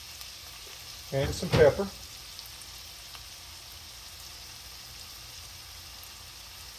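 Onions frying in a pan give a faint, steady sizzle beneath a brief spoken remark, the hiss continuing quietly on its own afterward.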